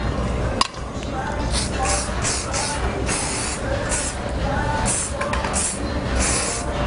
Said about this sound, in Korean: 스프레이 먼저 주시고